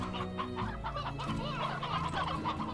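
Chickens cluck repeatedly in the video game Slime Rancher, a busy overlapping run of short clucks and squawks heard close with no talking.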